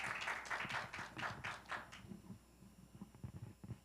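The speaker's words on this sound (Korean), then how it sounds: "발표자를 박수로 맞아주시기 바랍니다" An audience at a university forum applauds to welcome a presenter, a short, fairly faint burst of clapping that thins into a few scattered claps.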